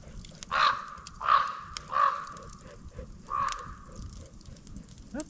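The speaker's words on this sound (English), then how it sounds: "The crows are really vocal this morning" Several crows caw in distinct loud bursts close by at a campfire site in the morning, about four calls spaced roughly a second apart, with a faint crackle underneath.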